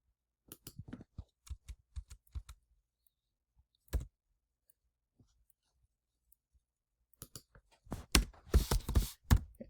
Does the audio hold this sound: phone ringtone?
no